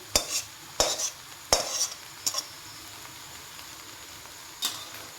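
Eggs are stir-fried in a pan for egg chow mein, with a handful of sharp scraping stirs and clinks of the utensil against the pan over a faint sizzle. Each stroke stands out alone.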